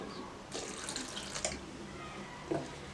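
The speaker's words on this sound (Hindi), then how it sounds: "थोड़ा सा पानी और डाल दें" Water runs and splashes softly into a container, with a few brief clinks; no one speaks.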